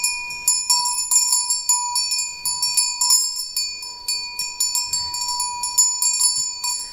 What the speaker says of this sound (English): I really love the bells, it's so relaxing